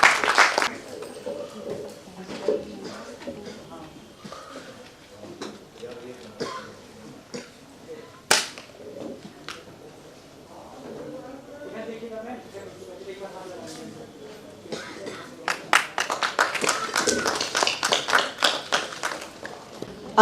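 Applause for a teacher at a musical stage play in Lucknow, following spoken announcements and a few coughs, with a burst of many clapping hands rising near the end, moderately loud and dense.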